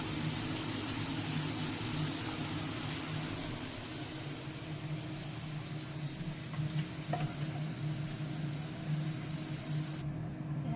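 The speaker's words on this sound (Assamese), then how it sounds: "মাছখিনি ভাজি আছোঁ" Fish being half-fried in a pan, producing a continuous, even sizzle at moderate level that stays steady from start to finish with no voices.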